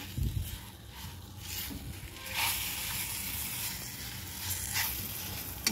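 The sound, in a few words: banana pieces roasting with semolina for shira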